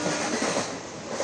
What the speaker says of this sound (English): The train reaches Varanasi junction on its way to Bokaro